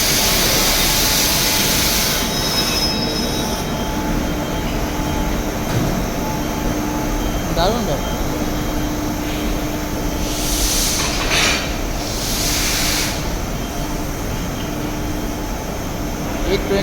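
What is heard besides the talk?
train pulled uphill by three locomotives at Lonavala station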